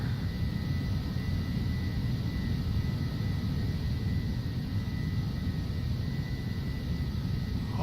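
Phenom 300 jet engines in flight, a steady, muffled broadband cabin roar with a faint constant whine, heard from inside the aircraft without speech.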